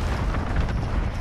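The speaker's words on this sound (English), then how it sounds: "Yo, someone's airstriking it." A rolling airstrike explosion in Call of Duty: Modern Warfare, a heavy, sustained low boom and rumble that fills the whole moment at close range, with no talking over it.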